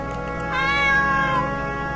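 A cat meows in the video game Chronicles of a Dark Lord, one clear drawn-out meow rising and falling over steady game music, close and prominent.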